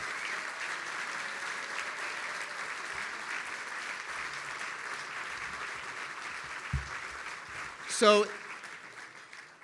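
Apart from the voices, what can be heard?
audience applause at a gala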